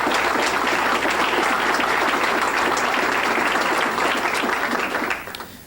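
Sustained applause from a city hall audience honoring municipal staff at a 1988 State of the City address, dense and steady clapping that fades out near the end.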